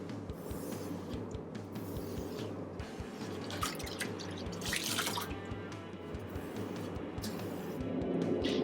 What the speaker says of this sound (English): we rinse the cage with clear water